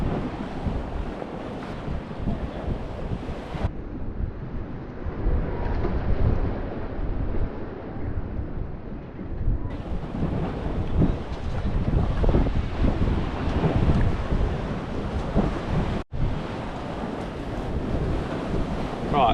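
Strong wind and crashing waves against the wall of a Spanish marina, with heavy gusts buffeting the microphone and continuous loud surf roar throughout.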